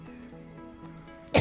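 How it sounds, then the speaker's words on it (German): A single loud, harsh cough bursts out at the very end, close to the microphone, over soft game background music with steady tones. "Mann, da muss ich erstmal wieder husten."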